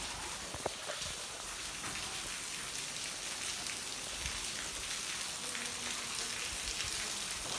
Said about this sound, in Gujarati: અત્યારે પાછો વરસાદ એવો લાગે બતાવું તમને.